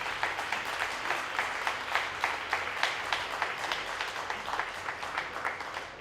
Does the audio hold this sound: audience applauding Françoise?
yes